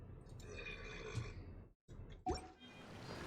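A person burps loudly at close range, a long gurgling belch followed by a brief pause and a second shorter burp, with no talk.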